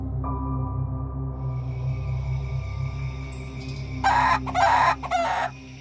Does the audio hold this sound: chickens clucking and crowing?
yes